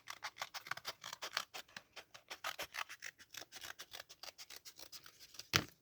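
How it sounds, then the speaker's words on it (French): Scissors snip through paper in a quick, steady series of close, crisp cuts, with one louder snip near the end, while a small recycled mini Christmas tree craft takes shape. "je prends mon ciseau et on découpe ensemble"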